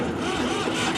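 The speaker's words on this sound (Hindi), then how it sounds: "तो दोस्तों हमने ट्रैक्टर को स्टार्ट कर दिया है" A tractor engine runs just after starting, a steady close mechanical drone held for about a second.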